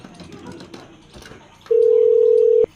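After a stretch of faint background noise, a loud, steady electronic telephone tone sounds for about a second during a redialed call, then cuts off abruptly.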